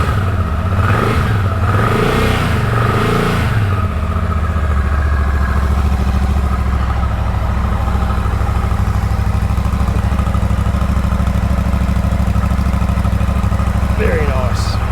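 Royal Enfield Shotgun 650 with a parallel twin 270-degree crank engine revs loudly up close, then settles into a steady, throbbing idle, with a voice speaking over the opening seconds.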